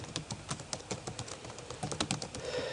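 Java code being typed on a computer keyboard: a brisk, uneven patter of soft key clicks, fairly quiet and close, continuing without pause and with no voices.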